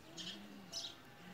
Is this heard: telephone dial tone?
no